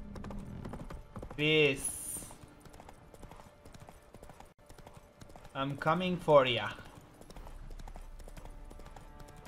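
Hoofbeats of a horse in the video game The Witcher 3 clop steadily and faintly under a voice, with short louder whooshing game effects in between.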